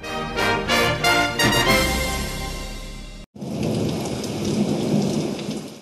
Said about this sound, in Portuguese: As chuvas chegaram